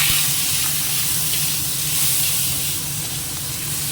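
Prawns sizzling in hot oil in a frying pan, a steady loud hiss and crackle of frying that runs without a break.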